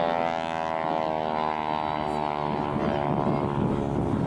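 Aerobatic propeller airplane performing at an air show, its engine drone loud and steady with a harmonic whine that rises and falls throughout, close and alone.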